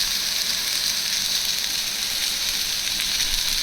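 Bitter gourd stir-fry with dried red chillies frying in a pan, a steady, close, continuous sizzle with no talking.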